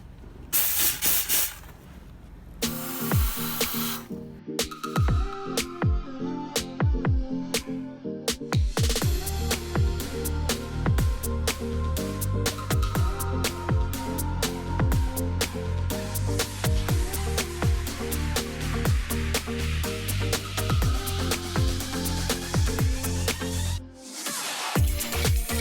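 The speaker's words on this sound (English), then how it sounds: "Whenever you guys are steam cleaning cup holders" A steam cleaner blasts boiling water into car cup holders during mobile detailing, making a loud, continuous close hiss with rapid sputtering clicks and brief pauses near the start and end.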